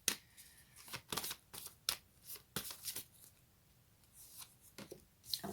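Tarot cards being shuffled and drawn from the deck, heard as a quiet run of crisp riffling flicks and soft slaps in uneven bursts, close by and with no voices.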